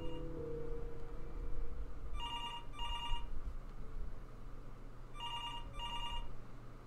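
A telephone rings in the video game Before Your Eyes, sounding twice as paired trilling bursts a few seconds apart over a quiet, low ambient backdrop, with no voices.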